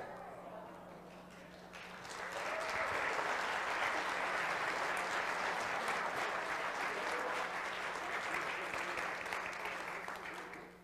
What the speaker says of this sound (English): I am so glad you're clapping right there, okay?